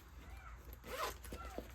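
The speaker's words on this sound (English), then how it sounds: "smooth zipper, silver, yes. This is so nice. Another zipper here" A smooth silver zipper slides open on a soft bills binder, a quick scratchy run heard close and fairly quiet against low background noise.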